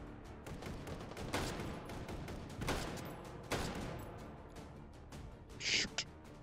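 Rifle fire in a video game: bursts of gunshots crack out in a loose, uneven rhythm over a steady background rumble, with a brief higher-pitched burst near the end.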